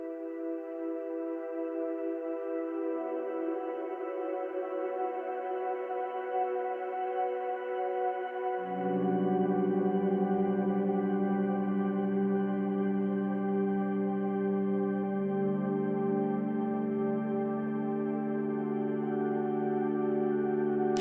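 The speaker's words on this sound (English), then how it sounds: "I added a crystallizer effect to make it sound more sprinkly, some reverb and some white noise to make it sound more analog-like." A sustained ambient synth pad with a sparkly crystallizer effect, reverb and a wash of white noise for a wintry analog feel, its chord shifting midway into a fuller, lower tone, steady and with no other sounds.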